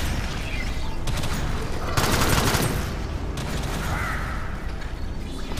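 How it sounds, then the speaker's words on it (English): Dense, loud gunfire fills the game Alien Swarm, shotgun blasts mixed with rapid weapon bursts and a constant roar of game noise, with voices talking over it. "You got a fucking shotgun."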